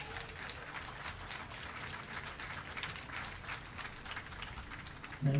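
An audience at an education service medal ceremony applauds to welcome a speaker, a dense, sustained round of clapping for several seconds before a voice starts at the end.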